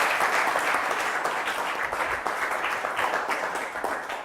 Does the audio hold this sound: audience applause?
yes